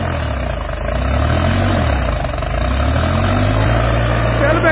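A Farmtrac 45 tractor engine labours steadily under load while pulling a trolley full of paddy, a continuous low droning hum with shifting tones, loud and close throughout.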